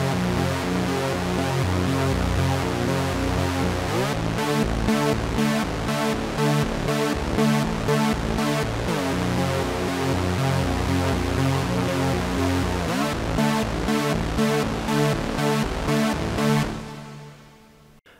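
An Arturia MicroFreak synthesizer plays a dense, loud patch with a stepped LFO jumping the pitch in rhythmic pulses, sustained for about seventeen seconds before fading abruptly at the end.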